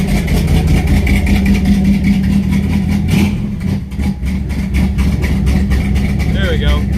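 A Chrysler engine idles steadily close by after a one-wire alternator conversion, its even rumble settling slightly lower without pulsing, with a brief dip midway and a short squeak near the end.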